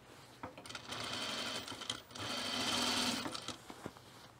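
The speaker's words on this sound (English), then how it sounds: "So we're gonna put a gathering stitch between the notches right here at the top." A sewing machine runs a gathering stitch near the top of a puffer vest piece, stitching in two steady bursts separated by a brief pause and ending with a few short clicks.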